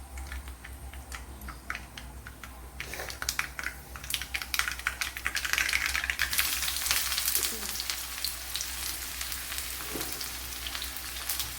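Shallots drop into hot oil where mustard seeds have already popped, for a vegetable curry. A steady close sizzle swells after the first few seconds and holds, with faint clatter and no talk.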